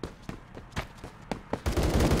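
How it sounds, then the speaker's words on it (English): Gunfire from the Roblox game Phantom Forces sounds as a string of sharp separate shots, then swells into a dense, loud burst of rapid automatic fire at the end. "let's get back to the shooting now"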